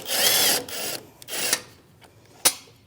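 A ratchet with a 7mm socket works loose a headlight bolt on a 2016-2025 Chevrolet Malibu, giving several short, close bursts of scraping, rasping clicks separated by brief pauses, ending in one sharp tap.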